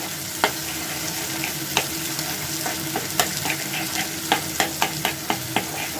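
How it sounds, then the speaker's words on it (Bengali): Scrambled egg sizzles in a frying pan among vegetables for homemade wheat-flour noodles, a steady close crackle broken by sharp scraping taps of a spatula stirring the mix. "এবার ডিমটাকে ভুজিয়ার মতো একটু করে নেব মাঝখানটাতে।"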